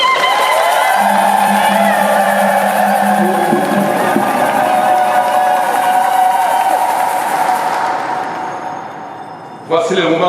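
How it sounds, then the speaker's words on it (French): A wedding congregation inside a church cheers and applauds for the groom, a loud, sustained crowd roar with clapping that carries for about eight seconds before fading, then a brief burst of noise at the end. "voici devant nous l'héros du jour, JR, on peut l'applaudir."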